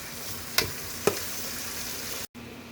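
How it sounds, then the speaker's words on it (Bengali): Onions and spices fry in a pan with a steady low sizzle, broken by two sharp scrapes of stirring and a brief cut near the end. "এখন পেঁয়াজ কষানো হচ্ছে।"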